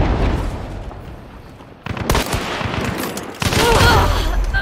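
Video game gunfire, including an Avtomat rifle, crackles in dense sustained bursts at moderate loudness, swelling louder in the final seconds with sharp pops and booms.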